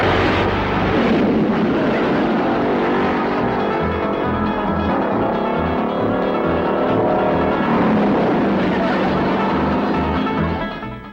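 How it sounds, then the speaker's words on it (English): Old car engine turning over and running in a rough, loud, continuous rumble close by, with no talk over it. "Now, Jethro, see if that'll start."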